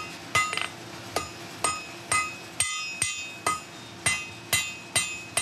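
Blacksmith's hammer striking hot metal on an anvil to draw out a taper, a steady series of about eleven sharp ringing blows, close and loud, with a quick rebound bounce after one strike.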